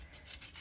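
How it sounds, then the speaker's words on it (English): A small piece of onion being grated by hand, giving a short run of soft, rhythmic rasping strokes close by, with no talking. "I decided that it needed just a wee bit of onion flavor. So we're just gonna grate just a tiny bit."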